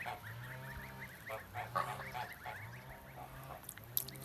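Geese honk repeatedly at close range, a flock calling back and forth in bursts with no one talking.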